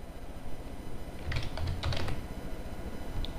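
Quiet computer keyboard typing: a short run of soft, irregular key clicks over a steady background hiss while a name is entered, with no voices.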